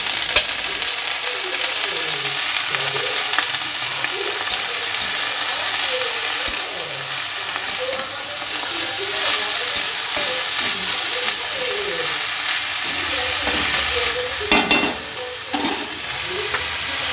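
Leafy saag greens stirred and frying in a wok over dried chilli, black cumin and garlic, a steady close sizzle with scraping stirs throughout and one sharper burst near the end, no talking.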